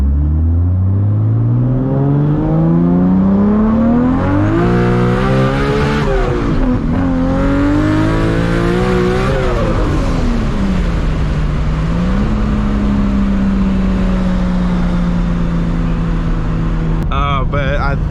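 A 1000 hp MK4 Toyota Supra engine, heard from inside the car while driving, revs up through the gears in rising sweeps, then settles into a loud steady drone.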